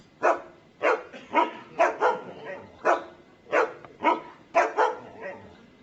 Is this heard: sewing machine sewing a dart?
no